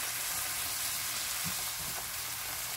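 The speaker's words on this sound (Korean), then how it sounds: "그리고 계속 볶아주시면 됩니다" Tofu noodles stir-fry with a soft, continuous sizzle in a pan seasoned with oyster sauce, a couple of faint spatula scrapes surfacing through the steady hiss.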